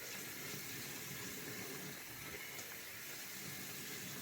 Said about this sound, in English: get that hot water. Get that rag rinsed off real good